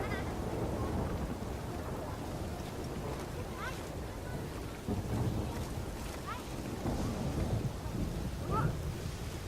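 Steady rain with a low rumble of thunder in The Witcher 3, a dense wash of rainfall and wind that swells in places, with a few faint voice-like sounds above it.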